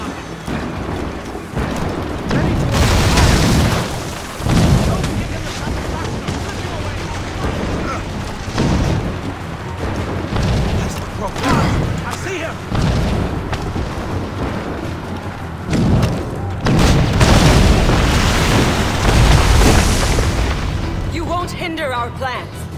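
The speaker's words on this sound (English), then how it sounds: "Chevalier is using mortars to stop Shay." Mortar fire from Chevalier's ship in Assassin's Creed Rogue, aimed at Shay's vessel at sea, sends several heavy booms crashing out at irregular intervals over constant wind and water noise, with voices talking throughout.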